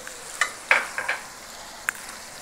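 Ketchup going into chicken jalfrezi in a hot pan: a low frying hiss broken by a few short sizzling bursts and stirring clicks, close and alone.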